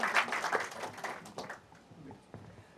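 Applause from an audience at a short-film festival award ceremony starts fairly strong, then thins out and fades after about a second and a half, leaving only scattered faint claps.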